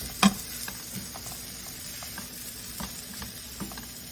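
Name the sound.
stirring vegetables in a stir fry pan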